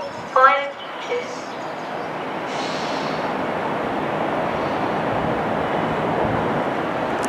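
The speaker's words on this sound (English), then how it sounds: "This train is formed of 5 coaches" A five-coach train at Birmingham International station: a brief voice and tones near the start, then a steady, broad rumble of the train that holds loud and even to the end.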